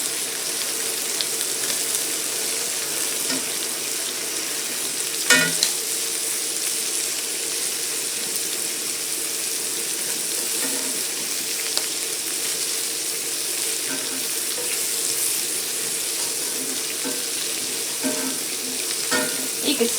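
Shrimp fry and get stirred in a pan while a steady sizzle fills the whole stretch. A few sharper pops and scrapes come through close by. No one speaks over it.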